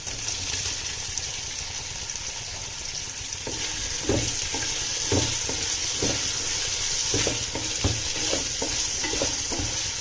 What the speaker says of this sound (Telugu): మంచిగా ఫ్రై చేసుకోండి లో ఫ్లేమ్లో పెట్టే ఫ్రై చేసుకోండి